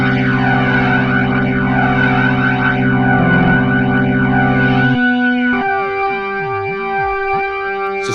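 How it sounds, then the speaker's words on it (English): VB3 II organ plugin played through a ring-modulator-like effect, a loud sustained chord with swirling, sweeping metallic overtones that shifts midway into warbling, bending inharmonic tones, with no talking. "Just like a ring modulator."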